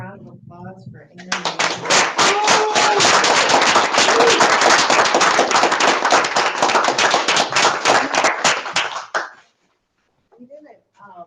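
Audience at a poetry reading gives a sustained burst of applause lasting about eight seconds, dense and close, then cuts off abruptly; brief talk comes before and after the clapping.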